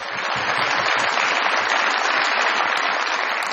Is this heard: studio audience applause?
yes